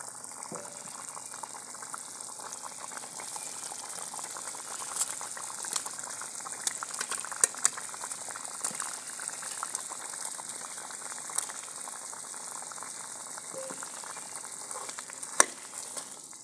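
Punjabi badiyan lentil dumplings frying with potatoes in a pan, a steady close hiss and bubbling sizzle with scattered small pops throughout.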